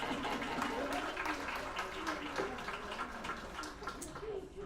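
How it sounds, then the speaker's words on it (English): Audience at a human relations award ceremony clapping for a retiree's acceptance, a continuous wash of applause with some voices mixed in, fairly steady and tapering slightly near the end. "All right, clap."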